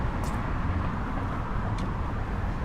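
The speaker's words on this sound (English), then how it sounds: "All the car noise, and it really seems like a downtown area" Steady car traffic roars along a busy Beverly Hills street with a downtown feel, a continuous close wash of engine and tire noise with a few faint higher swishes passing through.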